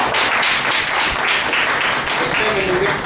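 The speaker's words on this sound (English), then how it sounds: "Let's give the immediate past president their applause." Applause from a club meeting audience for the immediate past president, a steady wash of hand claps at close range throughout, with voices mixed faintly underneath.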